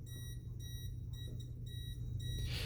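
A Klein Tools NCVT-5A non-contact voltage tester beeps rapidly at a high pitch, repeating quickly and steadily, fairly faint, over a low hum.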